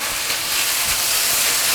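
Diced chicken and blanched shiitake mushrooms with chopped shallots stir-fried over maximum heat in a wok, giving a loud, steady bright sizzle and hiss that holds evenly throughout, close up with no talking.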